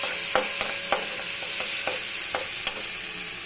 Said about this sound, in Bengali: মশলা পুরো ভাজা হয়ে গেছে